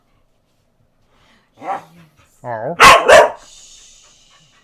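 A pet dog lets out a couple of short, close barks after a soft whine, with a brief spoken exclamation nearby and a faint whimper trailing off.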